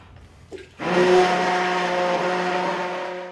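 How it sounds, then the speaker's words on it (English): A motorized stick blender mixing lye water into tropical soap oils whirs on steadily at high pitch after a brief clunk, running continuously and close by. "Pour the lye water into the tropical oils, and then mix it with the stick blender."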